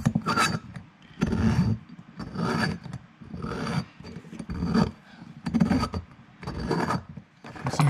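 A cheap valve seat reamer from a DIY kit cuts an aluminum valve seat, giving close, dry rasping scrapes in a steady rhythm of about eight strokes with short pauses between them.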